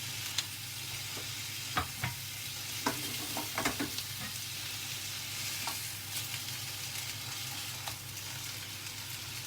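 Lamb cutlets fry in a pan with a steady close sizzle, broken by scattered clinks and scrapes of stirring or turning the meat.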